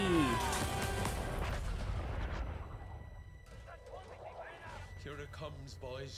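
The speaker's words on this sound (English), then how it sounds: "Artillery!" Artillery fire in Battlefield 1, a loud booming blast at the start that rumbles and fades over a couple of seconds, followed by shouting voices over a quieter battlefield background.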